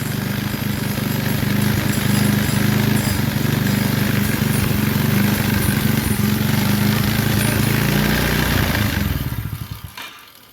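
A 90cc Chinese four-wheeler engine runs roughly and close by, a loud uneven clattering putter that stumbles while struggling to idle, then dies away near the end.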